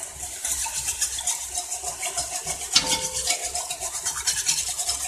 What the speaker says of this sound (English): We're just going to scrape this.